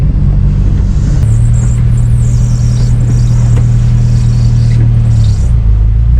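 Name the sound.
car engine noises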